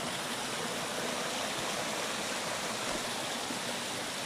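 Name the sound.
stream of water flowing, small waterfall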